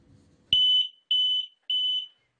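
Three loud, near smoke detector alarm beeps in a steady rhythm, each a shrill piercing tone lasting about a third of a second, preceded by a soft thump and low background rumble, with silence after.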